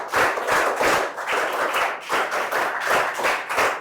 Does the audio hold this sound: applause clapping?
yes